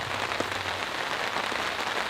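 Heavy rain drums steadily on a tarp in a forest, a dense, close, continuous patter with occasional louder drips and no voices.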